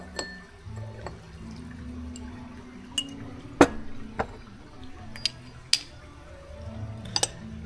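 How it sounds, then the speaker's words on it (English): Hot tea poured from a pot into a cup after a three-minute steep, heard as soft liquid trickling and a few sharp drips and clinks against glass or china, close and fairly quiet with no talking. "I'm just going to pour it."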